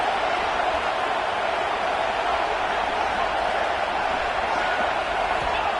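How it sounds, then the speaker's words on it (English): A college football stadium crowd in Georgia roaring to rally the defense during a red-zone stand, a dense, sustained wall of noise that holds steady at full volume from start to finish. "And here comes the noise. This crowd is trying to inspire this defense to make a big red zone stop."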